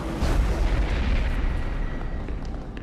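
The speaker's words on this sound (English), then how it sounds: "That was a nuke, or worse." A Stargate SG-1 gate attack ends in a nuclear-scale explosion: a loud, deep rumbling blast rolls and churns for several seconds, then slowly fades.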